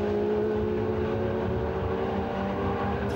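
Lotus Elise race cars lapping the Silverstone circuit in a one-make trophy race, a steady, loud blended engine drone holding constant throughout with no distinct pass-bys.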